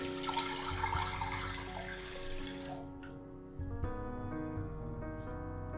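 Water pouring into a cooking pot for jaggery syrup, one kilo for half a kilo of jaggery, a steady close gushing stream that thins and fades, then resumes briefly with background hum.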